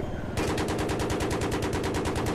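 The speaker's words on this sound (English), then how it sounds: "How about a little cannon fire for your afternoon, folks?" Helicopter cannon fire in the Battlefield 3 video game: a sustained burst of rapid, evenly spaced heavy rounds that starts abruptly after a brief pause and pounds on loudly without letup.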